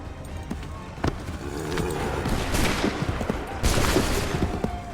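Musket volleys crack out in a period battle scene in Assassin's Creed III, with scattered shots and a dense fusillade mid-clip under a busy, noisy backdrop of battlefield commotion.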